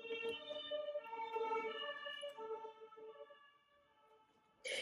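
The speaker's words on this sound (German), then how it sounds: "Da sind die Sirenen" Emergency vehicle sirens wailing in steady, overlapping tones at moderate loudness, sustained for several seconds and fading slightly before a brief louder burst at the end.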